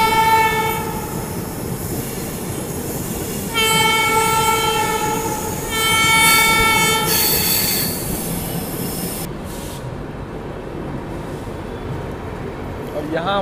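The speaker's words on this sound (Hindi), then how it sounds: "यहाँ हमारी ट्रेन यशवंतपुर जंक्शन स्किप कर रही है।" A Rajdhani Express passenger train runs near Bangalore, its wheels squealing in long, repeated high-pitched bursts over a steady rumble of rolling carriages, with a faint clickety-clack beneath.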